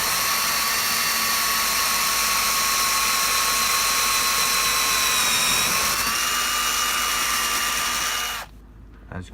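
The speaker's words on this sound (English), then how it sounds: "so I'm just going to drill to 16" A power drill bores a 16mm hole through a thermalite block, whining steadily and loudly up close. It dips in pitch as the bit bears down, then stops abruptly near the end.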